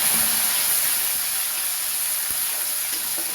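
Crushed garlic sizzles in hot oil, a steady, bright frying hiss heard up close with no pauses and no talking.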